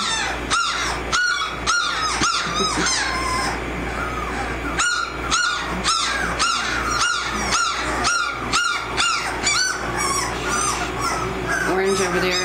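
Newborn American Mastiff puppies cry and squawk in a busy chorus of sharp, high calls, overlapping and repeating close by, with a brief lull partway through before the squealing picks up again.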